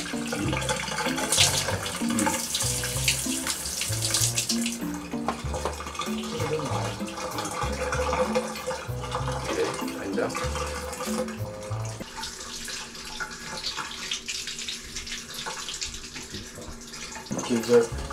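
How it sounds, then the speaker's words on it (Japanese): Water poured and flushed through a heavily soiled toilet during a cleaning job, a steady rushing splash that runs throughout and settles into a quieter trickle, with people talking over it. "じゃあちょっと水も流しますかああ水を流してこうですね"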